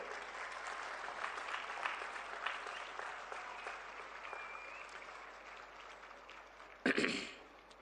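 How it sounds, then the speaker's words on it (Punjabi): Audience applause at a state event fills the hall in steady, dense clapping that fades slowly, and a sudden louder thump or cough cuts in near the end. "ਸਾਰੇ ਜਾਣੇ ਆਪ ਹੀ ਤਾੜੀ ਮਾਰ ਲਓ ਇੱਕ ਵਾਰੀ"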